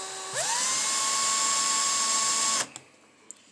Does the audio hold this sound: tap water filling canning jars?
no